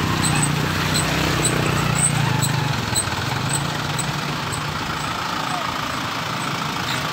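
Steady engine rumble of traffic, with a heavy vehicle idling nearby and a continuous broadband roar throughout.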